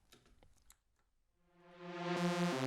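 A synth lead-in riff made from two detuned saw waves, a Reese sound, swells in from near silence after some faint clicks and grows loud and buzzy, sustaining a rich harmonic tone to the end.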